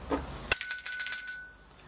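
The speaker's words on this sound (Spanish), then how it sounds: "la campana filosófica" A single bright bell strike rings out sharply and fades over about a second, marking the start of a segment of a Spanish-language radio show, with a brief low murmur just before it.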